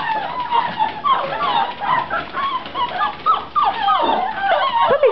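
Several seven-week-old American Staffordshire terrier puppies whimper and yip outdoors, a busy overlapping chorus of high cries close by, with a person's voice faintly mixed in.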